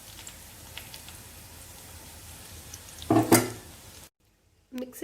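Bitter gourd pieces, fried and tossed with ground spice powder in oil, stirred in a vessel, giving a soft crackling sizzle with a brief louder scraping burst, then a sudden silence.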